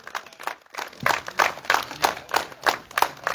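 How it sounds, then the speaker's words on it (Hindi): Crowd applause at a tournament ceremony welcoming a guest, a steady patter of many hands clapping at moderate volume, with no speech over it. "जोरदार तालियां।"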